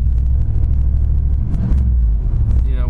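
A 1990 Cadillac Brougham with a 350 5.7-liter V8 idles steadily close by, a loud continuous low rumble with no revving and no talk over it.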